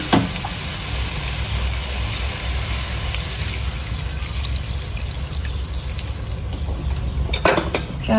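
A pot of braised snakehead fish is handled over a steady background hiss, with light metallic clatter and a sharper clank near the end as it is set down.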